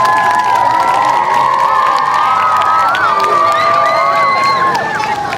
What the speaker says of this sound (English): So that there deserves a round of applause as well.